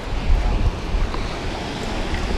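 Steady broadband wind roar buffets the microphone at a rocky island shoreline in Puerto Rico during a fishing outing, with surf washing underneath; continuous and fairly loud, no voices.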